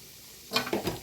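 Mustard seeds and cumin hit hot oil in a pan and give a brief, crackling sizzle with a few pops, close by, after a near-silent start.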